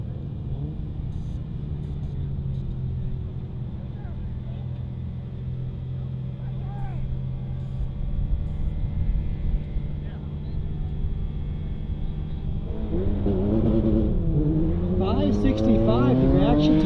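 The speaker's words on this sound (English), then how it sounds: "on the left side for Eric Peterson, running that E Street Toyota MR2, and then Bob Davis on the right side running that STX BMW" An E Street Toyota MR2 and an STX BMW launch at a drag strip, engines roaring loud and steady, then rising sharply in pitch as they accelerate away, with no talk over them.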